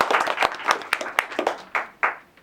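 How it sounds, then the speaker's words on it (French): A small group claps for a speaker at a meeting, with scattered sharp hand claps close by that thin out and fade toward the end. "Applaudissements à Irina."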